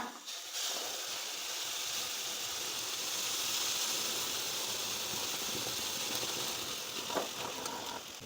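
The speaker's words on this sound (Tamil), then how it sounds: "இப்போ இந்த தேங்காய் பாலை உள்ள சேர்த்துக்கோங்க" Coconut milk poured into a hot pan of upma, a sustained loud hiss and steamy sizzle that holds steady for several seconds, close by with no talk.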